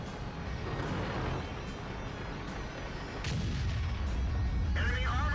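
A tank gun firing in World of Tanks on the 8.9 test server: one sharp, heavy boom midway over a constant low rumble, with some talking.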